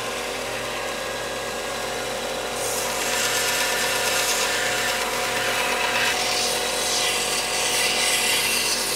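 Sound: rounding off the ends of wooden dowel pieces

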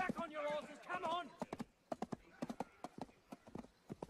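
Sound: horses galloping

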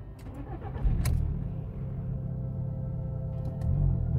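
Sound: car engine starting and revving

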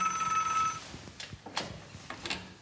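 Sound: landline telephone ringing in bunker

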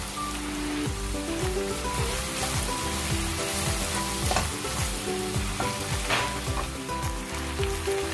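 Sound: stirring meat frying in pan for igado

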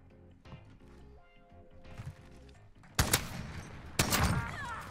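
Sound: shotgun gunfire in Call of Duty video game

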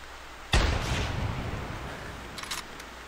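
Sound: rifle shot at an ibex in video game The Hunter

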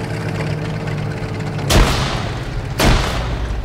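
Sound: grenade explosion in a tank video game

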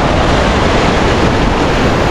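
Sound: river water rushing through opened gates

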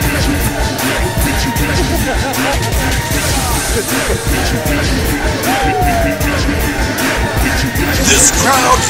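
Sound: wrestling crowd cheering

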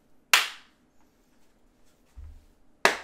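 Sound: live clapping by streamer

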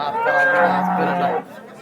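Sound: cow mooing at a cattle market

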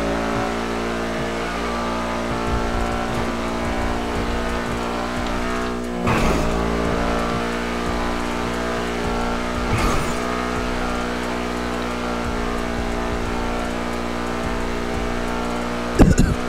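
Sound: fast car engine racing in the video game GTA

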